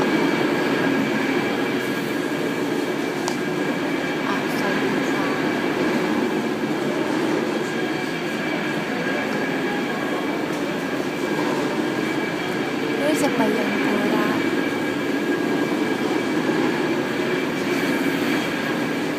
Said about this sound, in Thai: รถราง นี่กำลังขึ้นมาแล้ว